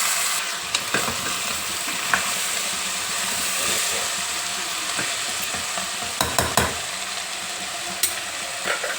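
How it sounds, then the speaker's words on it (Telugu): Broad bean seeds frying in a little oil in a covered pan with curry leaves, a steady close sizzle and hiss with scattered clicks and crackles, louder bursts near the end. "ఇప్పుడు మూత వేసుకొని కొంచెం నూనెలో వేగనిద్దాము"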